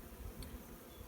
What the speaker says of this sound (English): There are far too many bees in this nuke.